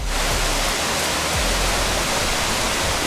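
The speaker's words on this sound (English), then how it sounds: "For a few seconds, the waterfall did all the work." Steady roaring rush of falling water, dense and unbroken, one of the Akame 48 Waterfalls in a Japanese forest heard up close with no other sounds.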